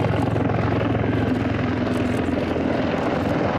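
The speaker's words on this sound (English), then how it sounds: "The Mi-28, NATO codename Havoc, isn't just another chopper." A Russian Mi-28 Havoc attack helicopter gives a steady, loud rotor and engine roar that holds constant throughout before cutting off abruptly at the end.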